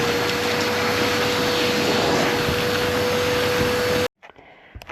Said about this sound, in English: We're going to need a vacuum cleaner.